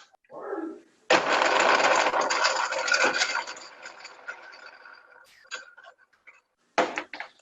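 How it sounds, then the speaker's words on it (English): A food processor whirs loudly and steadily for about four seconds as it blitzes bread into fresh breadcrumbs for a Christmas pudding. A softer handling noise comes before it and a short final burst follows. "I'll make some fresh breadcrumbs, just using a food processor"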